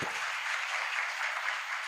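A church congregation gives a short burst of applause during a sermon, an even, moderately distant patter of many clapping hands with no speech over it.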